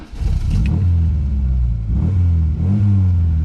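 A Miura Targa with a 1.6 engine and Cadron exhaust revving loudly and close, deep rumbling bursts that rise and fall in pitch across several throttle blips.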